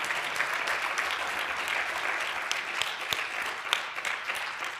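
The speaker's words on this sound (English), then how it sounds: "I want to give one last final round of applause for our essayists" Audience applause for essayists at a This I Believe meet-the-authors event, a steady room full of clapping throughout, with a few sharper individual claps standing out near the end.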